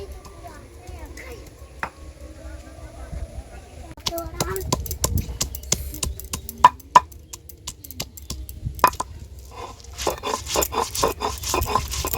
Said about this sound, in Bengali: আমের সঙ্গে তিনটে কাঁচা লঙ্কা বেটে দিচ্ছি